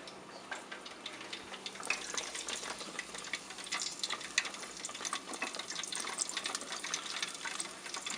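Pop-Tarts deep frying in hot oil, a steady, fairly quiet crackle of fine bubbling and ticking pops that runs continuously without a break.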